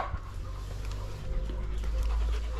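Several dogs kept in part of a house crowded with nearly thirty dogs pant close by, with soft whimpers mixed in over a low background hum.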